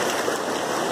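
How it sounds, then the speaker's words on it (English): Ocean water recedes back over rocks after a wave on a San Diego seascape, a steady, close rushing wash of water running the whole time with no voices. "once that water starts to recede out"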